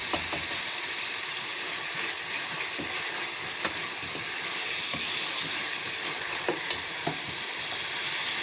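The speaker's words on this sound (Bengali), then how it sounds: "তারপর এগুলোকে ভালো করে ভেজে যখন লাল লাল হয়ে যাবে" Food fries in hot oil in a home kitchen, giving a steady, close sizzle with occasional crackles and stirring scrapes throughout, with no talking.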